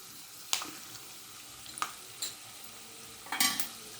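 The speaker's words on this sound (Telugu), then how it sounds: "ఆవాలు రెండు స్పూన్లు వేస్తున్నా" Two spoons of mustard seeds tempering in hot oil for tamarind pulihora give off a few sharp, scattered pops and crackles, with a brief cluster near the end over a faint, quiet background.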